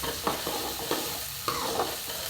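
Onions sautéing in a pan, a steady sizzle with regular scraping stirs roughly every half second, close and moderately loud.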